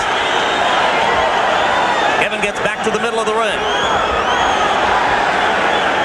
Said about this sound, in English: Crowd rises to this.